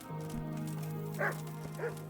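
A dog gives two short, faint yips over a steady low hum in a medieval role-playing game, Kingdom Come: Deliverance, at a place kept with many dogs.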